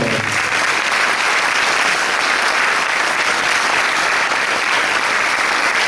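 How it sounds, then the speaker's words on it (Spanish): Steady, dense applause from an audience at a Paraguayan harp festival performance by young girl harpists, a continuous wash of many hands with no break throughout. "Tiara, Priscila y María Valentina se merecen un aplauso."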